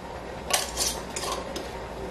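A glass canning jar of homemade mustard is set down into a canner, giving a few light glassy clinks and knocks close by, with a sharper tap near the start and softer clatters after.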